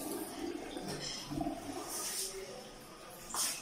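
A toilet flushing in a newly fitted bathroom, a continuous rushing, hissing water sound at moderate distance that swells and fades in waves before a final surge.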